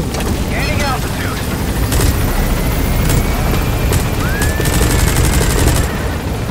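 Minigun gunfire in Metal Gear Solid V roars as a loud, dense, continuous barrage of rapid shots, with someone speaking over it.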